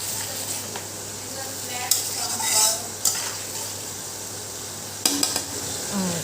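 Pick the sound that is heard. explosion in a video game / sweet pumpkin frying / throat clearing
sweet pumpkin frying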